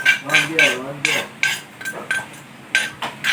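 Boiled catfish larb being spooned into bowls, with a metal spoon clinking and scraping against dishes in quick, close, bright strikes, some in rapid pairs and others spaced apart, with a brief voice early on.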